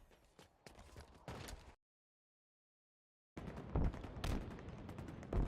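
Gunfire in the video game Halo Infinite, loud sharp shots heard close in two stretches separated by a gap of silence.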